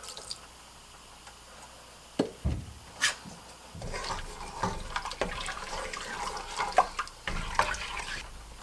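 Milk is poured into a pressure cooker holding bamboo rice, split moong dal and water, making a soft, uneven liquid splashing and gurgling that follows a few light knocks and continues for several seconds without speech.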